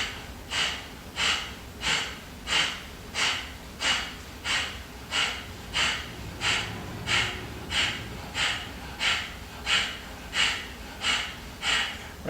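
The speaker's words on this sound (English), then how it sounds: "It's a noisy breath, right? Sort of you're making that sound as you do the exhale" Noisy rhythmic yoga breathing, about twenty forceful exhales in an even, quick pulse, each a short breathy rush of air heard close and alone.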